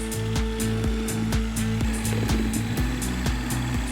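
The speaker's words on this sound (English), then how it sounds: "stirring to blend thoroughly and evenly using a slow-speed drill fitted with a mixing blade" A slow-speed power drill with a mixing blade runs at steady low speed with a droning hum, broken by regular thumps and scraping as it churns thick floor-resurfacing resin.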